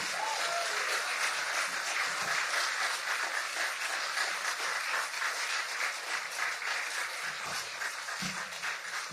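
Sustained applause from an audience at a live event, a dense wash of clapping that holds steady throughout with no voices over it.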